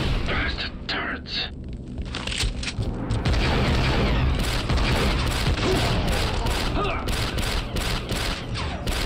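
Turret fire in the Star Wars: Republic Commando video game: a steady, loud stream of rapid shots and booms, with mechanical clatter, runs under voices speaking.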